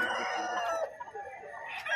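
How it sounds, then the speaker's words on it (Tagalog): Backyard chickens call close by, with a drawn-out rooster crow and clucking filling the whole moment at a fairly loud level. "Ito yung manok Tatay, o."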